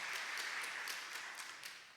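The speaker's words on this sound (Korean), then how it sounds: "우리 다시 한번 격려의 박수 한번 합시다" A church congregation at a Friday prayer meeting gives a round of applause, a soft, fairly distant patter of many hands that fades slightly toward the end.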